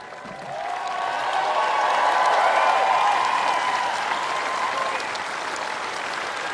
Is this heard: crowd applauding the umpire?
yes